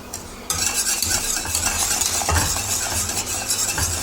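Fine semolina whisked into boiling salted liquid in a pan for a semolina cake with raisins and caramel, a steady scraping, bubbling rustle that starts abruptly and runs on evenly and close, with no talking.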